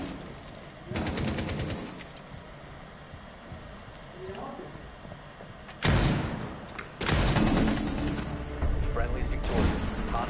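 Bursts of automatic gunfire rattle in a video game, with rapid machine-gun volleys of a few seconds each separated by quieter stretches, loud and close, while a voice talks at times.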